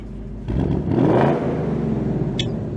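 A 2024 Mustang engine revs up once with a rising roar, then settles into a steady throaty idle, close and loud, with no talking.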